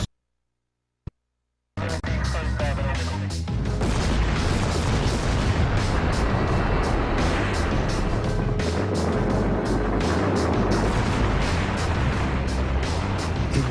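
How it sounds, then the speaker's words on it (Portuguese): Dynamite charges go off at both ends of the Itaipu dam canal on the Paraná River, a brief sharp crack followed by a sustained loud roaring rumble of blast and rushing water lasting many seconds. "A explosão lembrou fogos de artifício."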